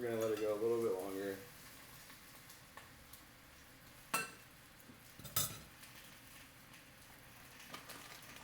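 Food browning in a frying pan gives a low, steady sizzle, with a few sharp utensil clinks and scrapes against the pan partway through and a brief louder moment at the start.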